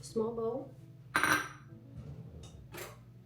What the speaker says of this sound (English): Let me get a small bowl.